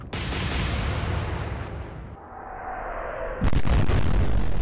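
Battleship guns roar in a heavy salvo during a naval battle game, a sustained loud rumble that dips briefly before another booming blast rises and holds, with no talk over it.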